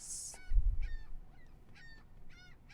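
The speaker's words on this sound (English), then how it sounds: "was that a seagull noise?" A seagull calls in a short series of nasal, repeated cries, fairly faint and distant, following a brief thump and hiss at the start.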